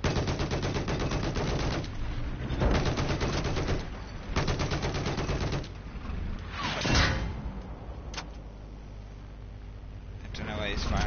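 Bursts of automatic gunfire in Battlefield 4, several long rattling volleys separated by short gaps, then a whooshing pass and scattered single shots, moderately loud with voices talking over parts of it.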